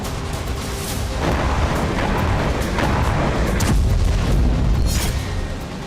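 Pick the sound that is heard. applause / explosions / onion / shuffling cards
explosions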